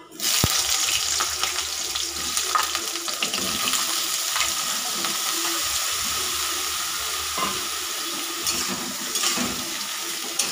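Eggplant sizzles steadily in hot oil with a dried red chili and five-spice seeds for neem-leaf eggplant, a dense continuous frying hiss with occasional stirring scrapes and clinks, close and fairly loud throughout.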